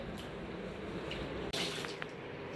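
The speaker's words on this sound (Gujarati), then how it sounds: "ટુવાલમાંથી પાણી કાઢું છું. ઓલો ટુવાલ આખો ભીનો છે." Water splashes and trickles steadily onto a hard surface as a soaked towel is wrung out, with a brief sharper gush partway through, close by.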